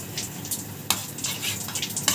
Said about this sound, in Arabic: هنحط بقى هنا يا ولاد السمنه والثوم وايه عشان الطشه بتاعت الملوخيه